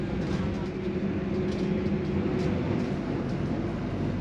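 The Argo Bromo Anggrek sleeper train runs at speed between Jakarta and Surabaya, giving a steady low rumble and hum from inside the carriage, continuous and even, with faint higher rattles over the top.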